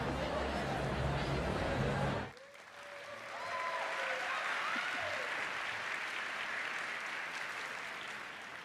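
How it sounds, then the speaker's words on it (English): A crowd at a university event applauds, a steady mass of clapping that briefly drops after a loud opening burst and then continues evenly, with some voices mixed in. "I don't usually get such a nice applause from you guys"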